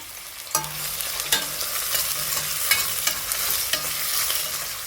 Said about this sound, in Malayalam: ഓയിൽ ചൂടായി വരുമ്പോൾ അതിലേക്ക് സവാള അരിഞ്ഞത് ഇട്ട് കൊടുക്കുക